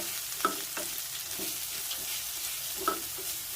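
Millet noodles being stirred in a pan with pink Himalayan salt: a soft, low sizzle with a couple of sharper spoon scrapes against the pan, fairly quiet and close.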